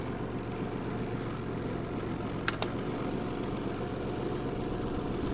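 A Japanese Kubota GL-200 mini tractor idles with a low, steady engine rumble, faint and unchanging, broken only by two quick clicks midway.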